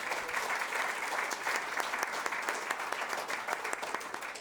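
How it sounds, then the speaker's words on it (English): Audience applause at the LNG Canada positive final investment decision announcement, a steady wash of clapping held at moderate distance for several seconds without talk. "They truly deserve a round of applause for the amount of amazing work they have done."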